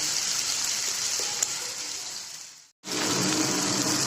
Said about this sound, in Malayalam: നമുക്ക് ഇത് ഒരുവിധം ഫ്രൈ ആയിട്ടുണ്ട്